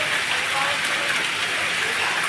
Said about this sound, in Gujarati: અત્યારે જોરદાર વરસાદ ચાલુ છે